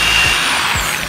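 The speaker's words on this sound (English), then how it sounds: "Then I'm gonna pre-drill" A power drill whirs steadily as it pre-drills a hole in wood, a loud, close, continuous motor whine lasting just over a second, with no voices.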